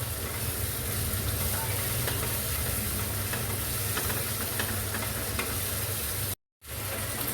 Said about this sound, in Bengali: এখন মশলাগুলোকে আমি ভালো করে ভেজে নেব।